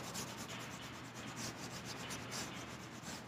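A bristle brush smooths paint across a canvas for a winter scene, giving a faint, close scratchy rubbing in steady back-and-forth strokes, with no one talking.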